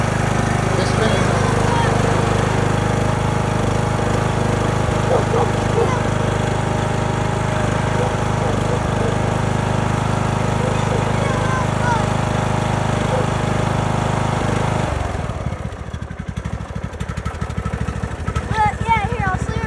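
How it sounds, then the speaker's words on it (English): A tractor engine runs close by with a loud steady drone that cuts off abruptly near the end, leaving quieter background; people talk over it. "here, I'll see it running for this next little part. That's the tractor."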